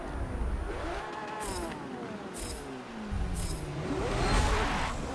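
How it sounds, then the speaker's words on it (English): Lamborghini engine in the racing game Forza Motorsport 7, revving up and down through rising and falling sweeps, dropping into lower tones before climbing again, loud and alone with no talk. "This car is the epitome of Lamborghini sound. Listen to this thing."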